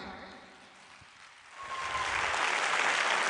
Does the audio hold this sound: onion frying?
no